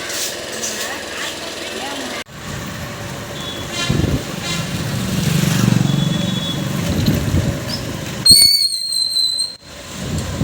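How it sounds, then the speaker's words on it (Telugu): Heavy road traffic moves through a town during the Kanuma festival: a steady rumble of passing vehicles, with voices talking over it and a burst of high car horn toots near the end. "ట్రాఫిక్ అయితే చాలా ఎక్కువ ఉంది కనుమ కదా"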